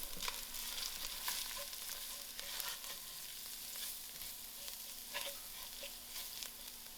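Spices and curry leaves frying in hot oil and being stirred for a dhal pitta filling, a steady crackling sizzle with scattered scraping ticks of the spoon throughout, no voices.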